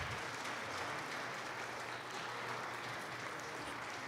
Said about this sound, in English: Let's give these athletes and families a round of applause.